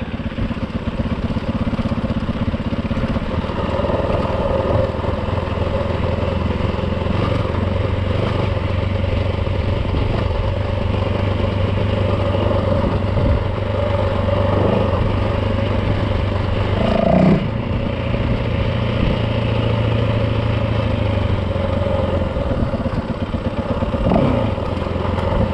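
Yamaha WR450 dirt bike running on a rough trail near Lower Bowns Reservoir in Utah, a steady close engine chug with low rumbling and occasional clatter and throttle swells throughout.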